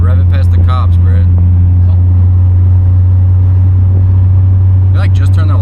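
A bagged Mazda NB Miata with a full ISR exhaust holds a deep, loud, steady droning engine note, with people talking over it at the start and end.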